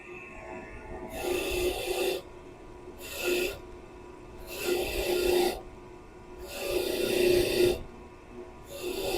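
A worn wire brush wheel on a bench grinder scrubs an old bolt in five separate bursts of harsh rasping, each lasting roughly a second, with quieter motor hum between passes.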